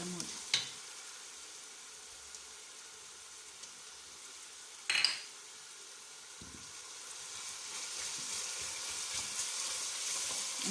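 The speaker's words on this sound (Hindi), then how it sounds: "अब हम इसमें अदरक और लहसुन का जो पेस्ट है ना वो डाल देंगे और इसको तकरीबन 1 मिनट और भूनेंगे" Ginger-garlic paste frying with mashed tomatoes in a pan gives a low, steady sizzle, broken by a couple of sharp stirring knocks near the start and midway, with the frying hiss growing brighter toward the end.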